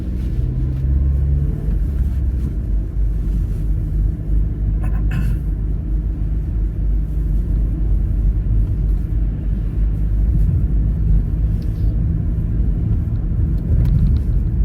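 A car drives along a Munich city road at around 50 km/h, a steady low engine and road rumble running continuously and fairly loud throughout, with a brief higher-pitched noise near the middle.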